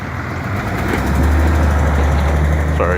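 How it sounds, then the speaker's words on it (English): A loud truck, a FedEx delivery vehicle, rumbles past a backyard garden with a low steady engine drone that swells and holds close by, with no talking over it. "Sorry, loud truck going by."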